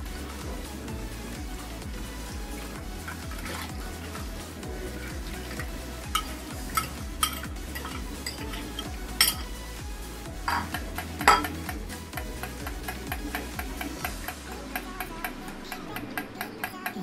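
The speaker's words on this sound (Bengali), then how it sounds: "ডিমের সাথে এবারে এটা মিক্স করে দিচ্ছি।" Banana pudding mixture being stirred together with eggs in a bowl, a steady rhythmic scraping and ticking of a utensil against the dish, close and fairly quiet with sharper clinks now and then, no talking.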